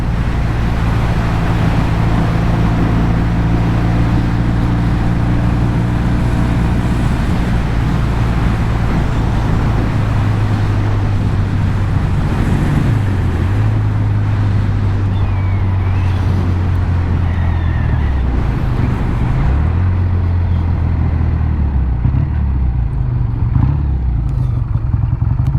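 Triumph Bonneville T120 engine running while riding, a steady deep rumble with shifting low tones as revs rise and fall, loud and close, mixed with road and wind noise throughout.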